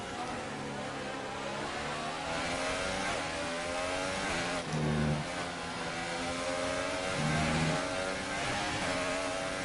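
A Formula 1 car engine roars steadily in the F1 2018 video game at the Belgian track. The whine stays loud and close, with rising and falling pitch sweeps as the car shifts gears.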